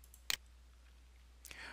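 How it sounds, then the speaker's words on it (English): Two sharp, quiet clicks of a computer mouse on a Windows Server machine during a backup feature installation, one early and one near the end, separated by near silence. "We're going to click Next and Install."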